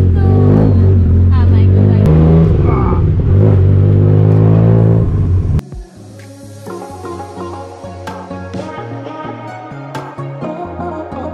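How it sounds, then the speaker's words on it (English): A tuk-tuk ride through Bangkok streets at night, a loud rumbling small engine revving and shifting up close, then a rougher idling putter with traffic noise around it; voices can be heard faintly under the engine. "We're going to have the tuk-tuk ride."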